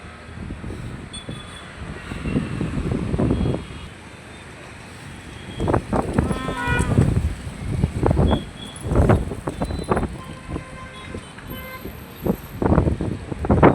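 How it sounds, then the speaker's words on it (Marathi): Strong wind shakes the trees in loud, gusty surges of rushing, rustling noise that come in repeated bursts with brief lulls between them. "लय वारा सुटलेला आहे झाडा फेडा सगळा लय हाला लागले"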